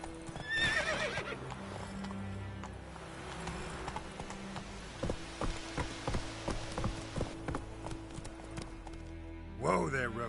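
Roach the horse in a PS4 video game, hooves clip-clopping in a steady run with a whinny near the start and a sharp call near the end, under a continuous game backdrop with a voice briefly heard.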